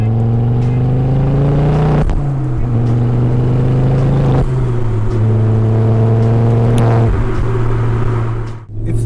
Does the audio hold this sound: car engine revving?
yes